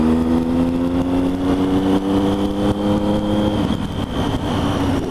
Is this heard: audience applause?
no